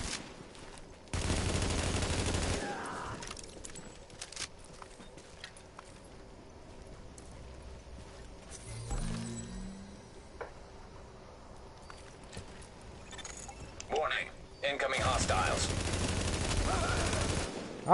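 Bursts of automatic gunfire in The Division video game hammer out in two loud rapid volleys at the start and end, with quieter game sounds and voices in between.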